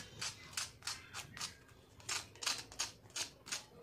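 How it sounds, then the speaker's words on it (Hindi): Crisp crunching and snapping of fried snacks, in quick irregular bursts close up, with no talking. "ये कितने क्रिस्पी बने हैं इनकी आवाज़ भी हम आपको सुनाते हैं"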